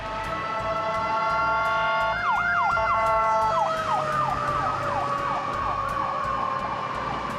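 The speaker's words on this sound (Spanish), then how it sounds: "Las sirenas de las ambulancias," Wailing sirens of ambulances, police cars and fire engines in Mexico City after the 2017 earthquake, several rising and falling tones that overlap above a steady rumble of street traffic, loud and close.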